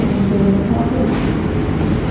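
A passenger train at Semarang Poncol station in Indonesia gives a continuous, fairly loud low rumble with steady mechanical noise throughout and no voices.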